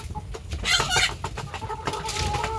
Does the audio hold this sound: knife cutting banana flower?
no